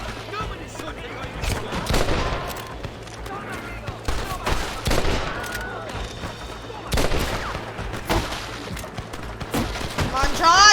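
A Red Dead Redemption shootout fills the scene with repeated bursts of gunfire, loud and irregular cracks and volleys layered over game noise, while voices talk in between.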